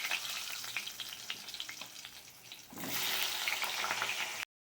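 Potatoes frying with black cumin in a hot pan give a steady crackling sizzle up close, briefly easing and then surging louder as more goes into the oil, with no voices.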